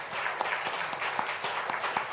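Church congregation applauding to welcome visiting missionaries at a Christmas Eve Sunday worship service, a steady dense clapping that fills the hall throughout, fairly distant and without talk.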